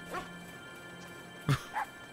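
During a backyard football game, a dog gives a couple of quick, faint yips and barks in short bursts. A louder bark pops out near the middle against a quiet background.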